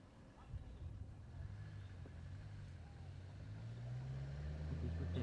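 A car is driven up: a faint, low engine rumble that grows slightly louder and deeper as it draws nearer over a quiet background.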